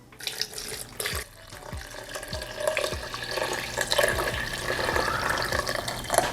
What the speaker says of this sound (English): Gonna pour that liquid in.